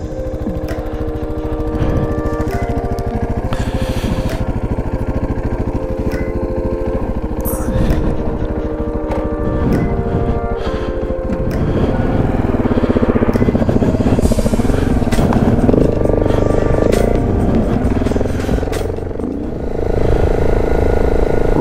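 A KTM 690 motorcycle rides along the edge of a desert lake, its engine droning steadily and close throughout with shifting pitch and a stronger surge in the second half, while someone talks over it.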